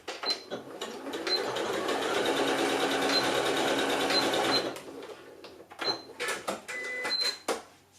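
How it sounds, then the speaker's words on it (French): Sewing machine stitching fabric scraps for a stuffed piece, a steady fast mechanical whir for about four seconds, then short stop-start bursts with brief pauses, close and clear with no talking. "Donc, on coud."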